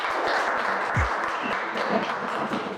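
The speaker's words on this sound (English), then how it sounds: "Please welcome with us Dominic with a round of applause." An indoor workshop audience gives a round of applause, a steady mass of hand clapping at moderate volume that holds for about three seconds, with a low thump near the middle.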